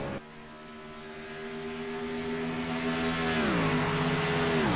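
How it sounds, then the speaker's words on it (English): A NASCAR-style stock car, the 28 car, downshifts through turn 1 at Pocono Raceway during a night race, its steady engine drone holding a tone and then dropping in pitch with the downshift. The engine sound grows louder toward the end. "turn 1, you can hear the 28 car downshift as he goes through turn 1"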